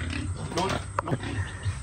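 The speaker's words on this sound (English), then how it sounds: "here they have the pigs" Pigs on a farm pen in Palawan grunting and oinking in short bursts close by, with people talking over the animals.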